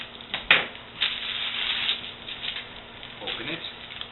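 Plastic packaging around phyllo dough crinkles and rustles as it is cut and pulled open in a kitchen while baklava is made. Crisp, scratchy handling noises come in short bursts, close by, under a person talking.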